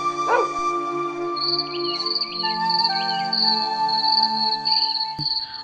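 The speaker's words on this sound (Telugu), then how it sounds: "ఒక కుక్క ఉండేది" A single short dog bark near the start, followed by a steady chirping of crickets and sustained tones.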